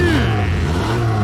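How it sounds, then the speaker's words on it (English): Cartoon vehicle engine revving from a children's animated bus show, a loud steady rumbling rev with a rising whine, heard close and alone without talk. "I have a super strong engine."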